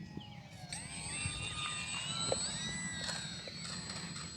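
A small E-flite UMX Air Tractor RC airplane makes a touch and go, its electric motor a steady high whine that rises and shifts pitch as it passes, fairly far off over a low outdoor rumble.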